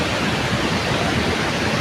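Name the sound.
Jana waterfall in Manali, rushing water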